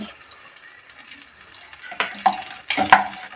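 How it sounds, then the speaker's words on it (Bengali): Ghee drops into hot mustard oil in a pan, sending up crackling sizzle bursts that grow louder and sharper toward the end after a quieter start. "তো আমরা এই সর্ষের তেলের মধ্যে এবারে আমরা দিয়ে দেবো ঘি"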